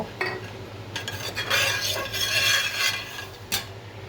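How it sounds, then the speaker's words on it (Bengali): Cauliflower frying in hot oil in a cooking pot, with scraping stirring and a soft sizzle that swells in the middle and ends with a sharp clink. "আগে ফুলকপিটা আমি ভেজে নিব।"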